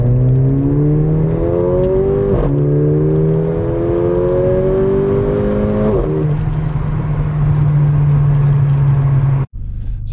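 Mercedes GLA45 AMG engine droning steadily and loudly from inside the car as it drives, its pitch climbing through two gear changes under acceleration before cutting off abruptly near the end; nobody speaks.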